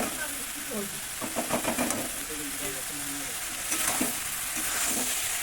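Soybeans frying in spice masala make a loud, continuous sizzle with stirring scrapes, while a voice talks over the cooking.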